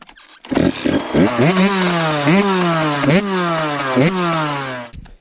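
An 85cc motocross dirt bike is kicked into life: a few sputtering attempts, then the two-stroke engine catches and revs up and down in repeated loud, close, rasping bursts before cutting off.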